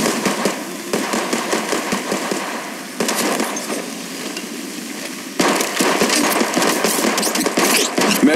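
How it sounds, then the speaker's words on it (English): Apex Legends firefight with continuous rapid gunfire bursts and dense crackling impacts over steady game ambience, shifting in intensity at a few points; any grenade throw and blast is buried in the shooting. "Throwing through my grenade"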